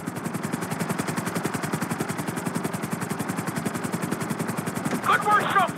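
A helicopter flies in the GTA V video game, its rotor beating in a fast, steady chop throughout, loud and close, with a brief burst of chirping near the end.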